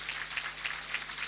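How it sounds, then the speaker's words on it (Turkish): Steady applause from an audience at a Turkish political campaign rally for a female mayoral candidate in Kahramanmaraş, a dense, even wash of clapping throughout with no pauses. "Bunu Dilek Hanım'a bayanlar çok alkışlamalı."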